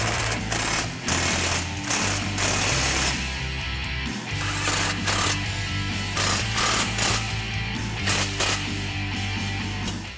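Power tool tightening a 19mm nut and bolt on the strut while fitting an Eibach Pro-Truck Sport shock kit to a 2014-2016 Ford F-150 4WD, heard as a loud, steady mechanical buzz with brief pitch shifts, running throughout without talk.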